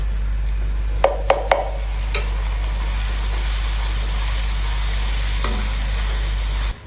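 Onions frying in a pan of hot oil for a crispy bhindi (okra) fry, a steady close sizzle with a few sharp clinks of a spoon against the pan near the start, no talking.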